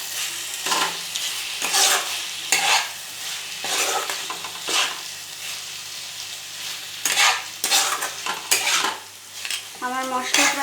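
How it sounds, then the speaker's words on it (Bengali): Masala frying with tomato in a pan for a jackfruit (echor) curry, a continuous sizzle broken by repeated scraping bursts of a spoon stirring against the metal, close and loud, with no talk. "আমার মশলা প্রায় কষানো হয়ে এসছে"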